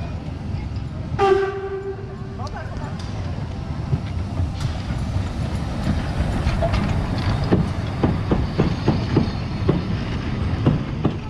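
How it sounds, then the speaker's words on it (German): A Zittau narrow gauge railway train pulls into a station, opening with a loud horn blast, then steady rumbling and rhythmic wheel clicks that grow busier as it draws near. "Und dann ging es für uns zu Fuß wieder zurück zum Bahnhof, wo dann auch direkt der Zug kam."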